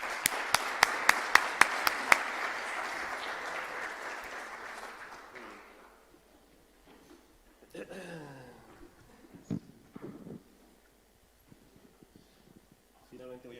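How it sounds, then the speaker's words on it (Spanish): An audience at a talk on the future labour market applauds loudly for about five seconds, then the clapping fades into quiet with scattered handling knocks and brief speech afterward. "para quien pido un fuerte aplauso"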